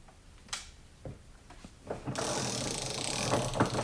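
A 17.5-inch Capri Tools flex head ratchet clicks in a few sparse single ticks, then runs into a fast, dense ratcheting burst that stays loud and close to the end.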